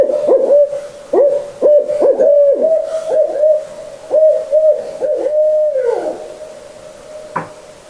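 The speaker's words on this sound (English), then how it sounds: "those owls, I mean, they were close. It's like they were in the tree right outside this old cabin" Several owls hoot repeatedly and loudly at close range, perched in a tree right outside an old Minnesota cabin at night, the calls coming in steady rhythmic bursts with a brief sharp sound near the end.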